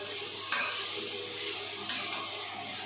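Onions, mint and coriander stirred in hot oil, a close, steady sizzle broken by two sharp spoon scrapes against the pan, no voices.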